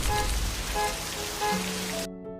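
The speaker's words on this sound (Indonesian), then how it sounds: "hujan turun dengan derasnya" Heavy rain pours down at night in a steady, dense hiss for about two seconds, then cuts off abruptly, leaving a low sustained musical tone.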